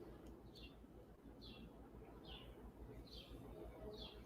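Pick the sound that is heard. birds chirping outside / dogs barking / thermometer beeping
birds chirping outside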